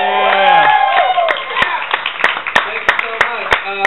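A comedy club audience claps at the end of a stand-up night. The applause is loud and close, with a voice speaking over it at first, then thins into a few scattered sharp claps.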